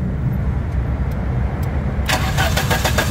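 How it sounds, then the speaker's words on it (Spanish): A car engine cranks on the starter after its relays are replaced, with a steady low rumble and a rapid, loud rhythmic chug kicking in partway through. "ya le cambié los relays otra vez démele marcha"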